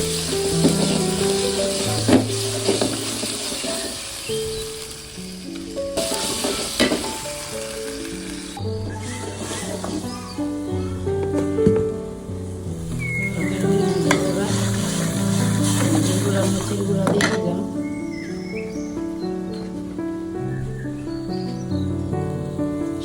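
Ginger and garlic frying in a fish curry, a loud continuous sizzle with stirring, mixed with tonal background music.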